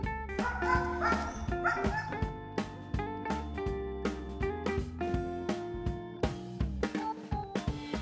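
A mine-detection dog from a military canine unit barks and yips repeatedly in quick, uneven bursts, close and loud, with some whimpering between barks.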